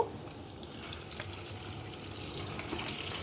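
Eggs fry in a pan for a spongy-gourd egg curry, a steady low sizzle with faint watery crackle running evenly throughout, quiet and unaccompanied by voices.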